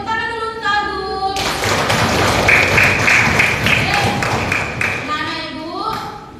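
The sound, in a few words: students clapping for Agung in a classroom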